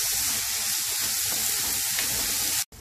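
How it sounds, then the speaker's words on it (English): Onions and tomatoes fry together in oil for palak paneer, making a loud, dense, continuous sizzle close up that cuts off abruptly near the end. "Fry everything for at least 3 to 4 minutes."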